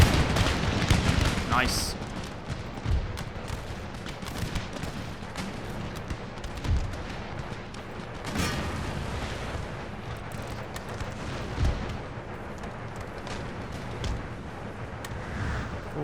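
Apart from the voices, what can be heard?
musket and artillery fire in Empire Total War video game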